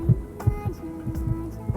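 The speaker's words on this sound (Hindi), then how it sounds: "रुद्रा की भी दिल की धड़कनें बढ़ने लगती है" A heartbeat sound effect from a Hindi audio horror story beats in low, regular thumps over a steady droning hum, fairly loud and with no speech.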